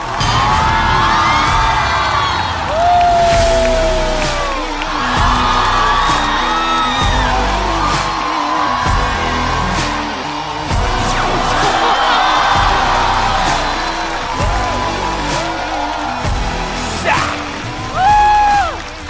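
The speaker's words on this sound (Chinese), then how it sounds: "掌声欢迎阿修、顾京云、大国手" A large studio audience at a stand-up comedy competition cheers loudly, with whoops, yells and applause rising and falling, while amplified music plays underneath.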